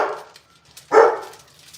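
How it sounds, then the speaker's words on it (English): Dogs give a single loud bark or yelp near the middle of a short, otherwise quiet stretch, with fainter household noise before it, indoors while lasagna is baking. "The dogs hear anything and they start barking."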